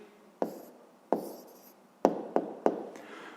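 Pen or chalk strokes come as five sharp taps with short scratches while a maths answer is written down, quiet and near, with no talking.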